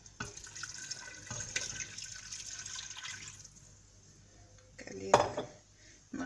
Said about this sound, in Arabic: نمرقوها بماء دافي